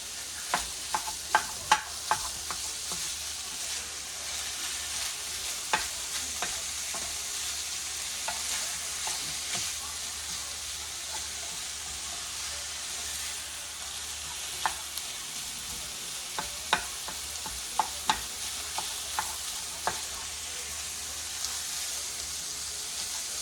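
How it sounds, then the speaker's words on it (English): Ground beef hamburger frying in a pan is stirred, a constant sizzle broken by clicks and scrapes of the utensil, close and steady for a long stretch, with no voices. "We're just going to mix up this hamburger here."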